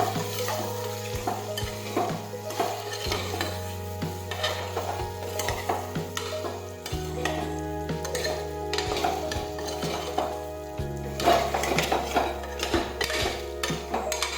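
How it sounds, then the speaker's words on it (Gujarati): Spices being stirred into a potato curry in a pan: steady, repeated scraping strokes over a light sizzle, moderately close, with no talking. "હવે આપણે બધા મસાલા છે તે આ રીતે મિક્સ કરી દઈશું."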